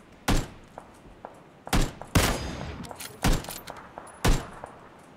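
Five sharp, loud bursts of gunfire from PUBG, a battle royale video game, spaced irregularly over a few seconds with short echoing tails and quiet gaps between.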